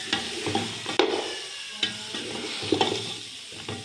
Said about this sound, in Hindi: इसको तकरीबन हम 5 मिनट इसको भून लेते हैं।